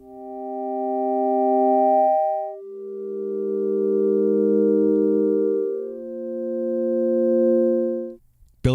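GForce Halogen FM synthesizer playing three sustained chord-like notes in turn, each swelling in slowly from a soft attack, clean and tonal, with a short click at the very end.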